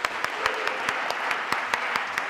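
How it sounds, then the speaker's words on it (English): Applause from an academic conference audience, thin and sparse with individual sharp claps standing out in an irregular rhythm over a soft clapping bed. "You want to join me with an applause?"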